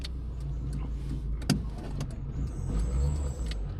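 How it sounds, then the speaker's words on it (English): A Nissan Micra, an older classic car, running with its power steering belt squealing: a thin high whine over a steady low engine rumble, with a few brief clicks and bumps from inside the cabin. "That's the power steering belt squealing."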